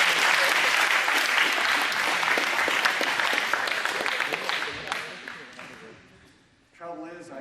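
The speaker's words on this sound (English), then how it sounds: "Give Jake a big round of applause." Audience applause fills the room for a performer named Jake, a dense burst of clapping that thins and fades out, followed by a voice speaking at the end.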